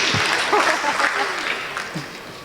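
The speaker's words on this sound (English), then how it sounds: "Big round of applause." Wedding reception guests applauding before a cake cutting, a short burst of clapping mixed with cheers and voices talking over it.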